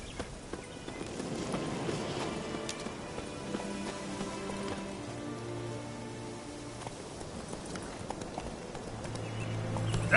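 Hooves of the horse Roach clip-clop in a steady galloping rhythm across terrain in The Witcher 3, fairly quiet beneath a soft, rain-like hiss of ambient game sound.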